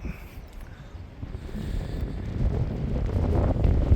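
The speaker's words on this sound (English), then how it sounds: "Oh boy, this wind's cold." Cold wind blows at an outdoor stop on a Tasmanian road trip, buffeting the microphone with low rumbling gusts that build steadily louder toward the end, with no voices.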